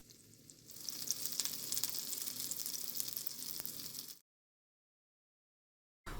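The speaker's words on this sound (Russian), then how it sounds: "Обжарить баклажаны в разогретом масле до образования золотистой" Eggplant frying in hot oil gives a steady, fairly quiet hiss and crackle that runs for about four seconds, cuts to silence, then briefly resumes at the very end.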